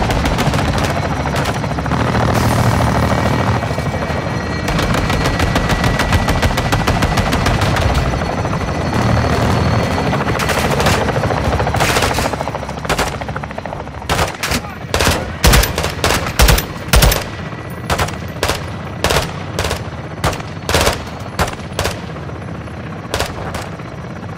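Gunfire in Call of Duty Modern Warfare 2 (2022): sustained bursts of automatic weapon fire and explosions over a steady engine roar, like a helicopter, give way later to sharp, separated loud gunshot cracks.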